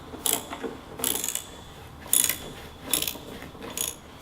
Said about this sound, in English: Now tighten the bolts for the washer fluid tank.